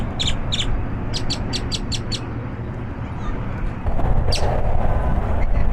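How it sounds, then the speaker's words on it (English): A loud, harsh blackbird call repeats in quick bursts of several notes over steady outdoor background noise, with a person speaking faintly underneath. "that is a loud bird up there. He's not happy about something. Oh, it's those kind of blackbirds."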